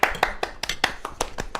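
A few people at a live cooking stream give a quick round of applause, a short burst of close hand claps in an uneven rhythm.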